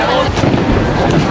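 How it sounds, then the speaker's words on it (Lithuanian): Fireworks bursting all around at a crowded fireworks festival, a dense, continuous rumble of distant booms and crackles that blends with the surrounding crowd noise. "Mes einam ir visur aplinkui šaudo ferverkais."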